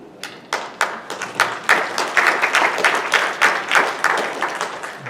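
An audience applauds the board at an annual meeting, with steady clapping that holds for about five seconds and spiky individual claps along the way. No one speaks.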